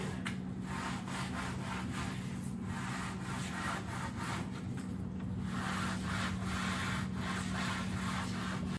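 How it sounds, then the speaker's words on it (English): A rag wiping excess wood stain off a wooden piece: repeated soft rubbing strokes in a steady back-and-forth rhythm, close up, over a faint constant hum, with no speech. "Once I finish staining, I just take a rag and I wipe off the excess stain."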